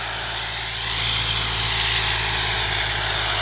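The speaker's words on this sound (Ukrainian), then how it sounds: "Трактор йде, звісно, не дуже легко." A tractor hauls a deep subsoiler through a field set to about 35 cm for soybeans, making a steady loud engine drone with broad rushing noise that strengthens slightly partway through.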